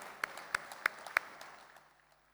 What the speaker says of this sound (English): I think you guys deserve a big round of applause